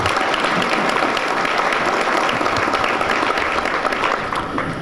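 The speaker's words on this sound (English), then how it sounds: "Let's give them another round of applause." A theater audience at a Kiwanis Club roast in Lebanon, Tennessee applauds steadily, dense clapping filling the room at even loudness throughout before easing slightly at the very end.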